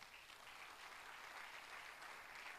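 A church congregation applauding to acclaim the Lord, a steady wash of clapping that stays even for a few seconds, faint and distant, with no voices on top.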